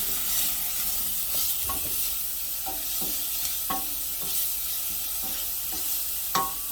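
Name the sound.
onions and thyme sauteing in a pan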